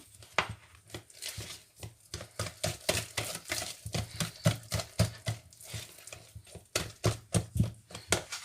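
Oat and apple muffin batter being stirred by hand in a bowl, a steady series of soft, moderately loud knocking and scraping strokes in quick irregular rhythm, close up with no voices.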